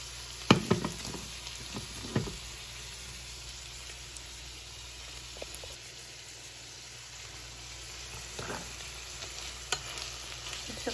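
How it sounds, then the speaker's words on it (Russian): Minced meat sizzles as it fries in a pan of sautéed vegetables, with a steady crackling bed broken by several sharp clatters of stirring; no one talks. "А теперь добавим фарш в зажарку."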